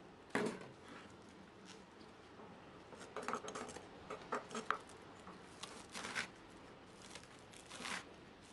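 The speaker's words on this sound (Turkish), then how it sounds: "Mutlaka bu şekilde ince ince doğrayalım." A knife chops green onions finely on a cutting board, with quick clusters of light taps and scrapes close by, fairly soft against a faint background hiss.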